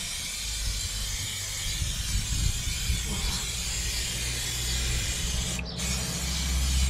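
Spray primer hisses from an aerosol can onto a rusty Iveco camper van wheel, a continuous close, even spray with only a brief pause near the end.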